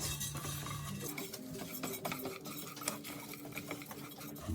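Rice, lentils and salt being stirred together in a pot, with repeated quiet scraping and clinks of a spoon against the pot, close and steady without talk.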